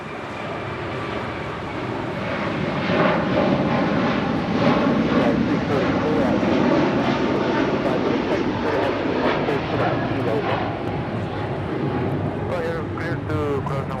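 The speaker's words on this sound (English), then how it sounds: "742 departing to Doha on the A350 1000" A Qatar Airways Airbus A350-1000 thunders down the runway departing Los Angeles International Airport for Doha, its engine roar swelling and holding loud and broad, with faint voices and radio chatter underneath near the end.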